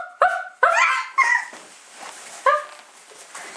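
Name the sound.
toddler imitating a dog barking woof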